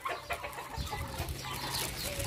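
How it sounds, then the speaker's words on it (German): A flock of turkeys gobbling and clucking outdoors near a pool, a dense busy chorus of overlapping bird calls that runs continuously and fairly loud throughout. "Guck mal, die blöden Puten."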